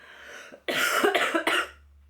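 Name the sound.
cough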